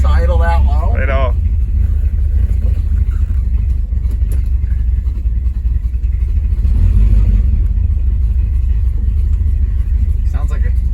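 A 1968 Pontiac Tempest engine idles low and steady as a rumbling drone throughout, with people talking over it inside the car.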